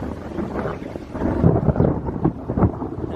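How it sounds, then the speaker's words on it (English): Thunder rolling during rain outdoors, a loud deep rumble that swells and surges continuously over the patter of rain. "and there's the thunder."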